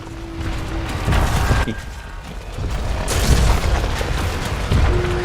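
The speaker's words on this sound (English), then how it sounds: "Someone showing off their grenade launchers." Grenade launchers firing in the video game Warframe, a few deep booming blasts scattered over a steady mechanical background hum, fairly loud and close, with no one talking.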